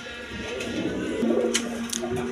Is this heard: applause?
no